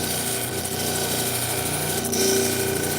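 A gemstone held against a spinning 3000 grit polishing wheel makes a continuous loud mechanical whirr and motor hum with a steady grinding hiss, unbroken throughout.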